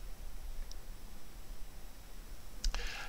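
A single crisp mouse click on a Next button, close and clean, with a brief clatter of light clicks right after against a quiet background.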